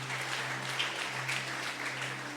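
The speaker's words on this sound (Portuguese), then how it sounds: "Aplauda o nome do Senhor Jesus." Applause from a church congregation during a worship service, a steady, moderate wash of clapping with a constant low hum underneath, no voices over it.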